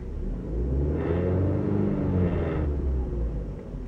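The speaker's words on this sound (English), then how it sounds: "Every time I reach in between 2 and 3 RPM, it makes this vibration noise or something." A 2000 VW Golf 2.0 engine between 2,000 and 3,000 RPM with a vibration fault: a low, steady engine rumble that swells twice into a buzzing resonance before settling, close and continuous.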